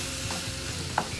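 Ground beef is chopped and stirred as it fries in a pan, a steady sizzle with soft scraping strokes and one brief sharp click near the end.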